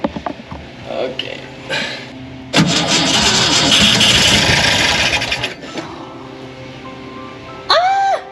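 The engine of a VW split bus that sat for 50 years cranks for about three seconds in a loud, close starter churn, with quieter mechanical sounds around it and brief voices at the edges.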